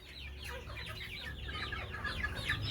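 Chickens on a poultry farm cluck in a busy run of quick, chattering calls at moderate distance over a low background rumble.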